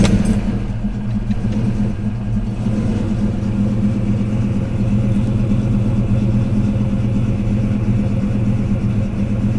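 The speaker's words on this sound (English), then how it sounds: "It's idling nice." A 1990 Ford Mustang GT engine idles steadily nearby, a low, even rumble with a smooth, unchanging tone throughout.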